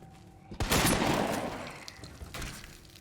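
A shotgun fired in the video game Resident Evil 2, one loud booming blast with a rolling tail that fades over a couple of seconds, followed by fainter clatter.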